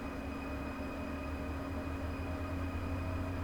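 Steady low rumble of an ICE 1 high-speed train pulling out of Frankfurt in the video game Train Sim World 6, with a constant hum and faint high whine, even in level throughout.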